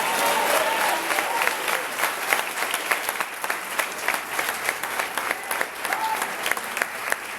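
Congregation applauding in a church service, a sustained, moderately loud wash of many hands clapping with a faint murmur of voices underneath that keeps going across the whole stretch.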